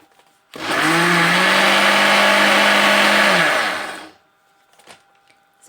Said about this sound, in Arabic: ضربنا كده ضربتين من الزيت مع السمنة